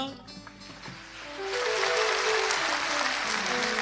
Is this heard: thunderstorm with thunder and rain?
no